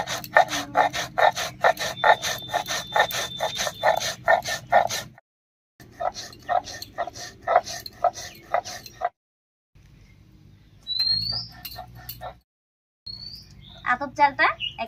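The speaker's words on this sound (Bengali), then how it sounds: "এবারে একটুখানি আতপ চাল বেটে নেব" Soaked aatap rice ground by hand on a grinding stone, giving steady rhythmic rasping strokes up close that stop briefly and resume in shorter bursts.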